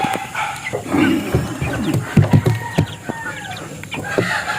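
Chickens cluck busily at close range on a small mini farm while a rooster crows among them, the calls overlapping in quick, uneven bursts.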